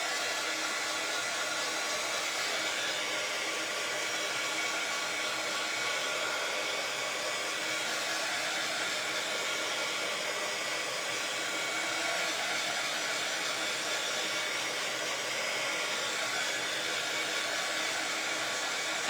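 A hair dryer runs steadily and close for the whole stretch, a continuous broad whooshing roar drying layers of paint on a DIY bunny-inside-egg craft kit, with no talking over it.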